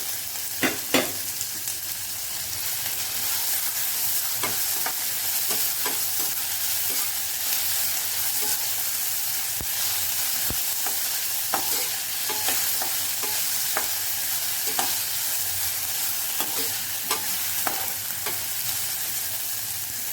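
Finely chopped tomato and green chili sauté in hot oil in a pan, giving a steady, close sizzle broken by frequent light clicks and scrapes of stirring, with no talking.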